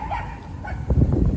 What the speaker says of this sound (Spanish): Cállate, perro.